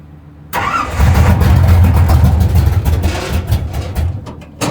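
A car engine cranks and catches after a moment of quiet, then settles into a loud, close idle with a rough rattling rumble.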